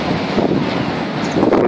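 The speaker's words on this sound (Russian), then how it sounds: "опять северный ветер" Northerly wind blowing by the water, a steady loud rushing roar buffeting the microphone with no pauses through the short clip.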